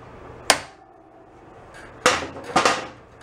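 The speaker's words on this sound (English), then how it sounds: "Start whacking it with a hammer." Three sharp metallic hammer blows on a custom motorcycle part, one alone then a quick pair, ringing out against a quiet background.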